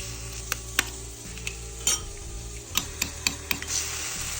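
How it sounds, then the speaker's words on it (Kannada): Mushrooms in olive oil sizzle in a pan under a constant hiss, with repeated sharp clicks and scrapes from a utensil stirring against the pan. "ಮಶ್ರೂಮ್ ಹಾಕೋತಾ ಇದ್ದೀನಿ."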